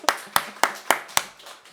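A church congregation claps in unison during a Korean sermon, five slow, evenly spaced hand claps that ring out clearly in a quiet room.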